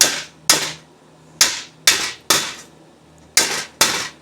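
Seven sharp metallic planishing hammer strikes on a sheet metal fuel tank for a Honda CX500, each ringing briefly, spaced irregularly about half a second to a second apart, close and loud.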